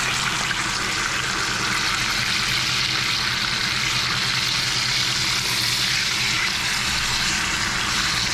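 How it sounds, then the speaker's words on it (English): Steaks sear in a pan just after being flipped, giving a steady, loud, dense sizzle that holds evenly throughout with no talk over it. "we're gonna give these steaks a nice flip. Should have a nice sear on it"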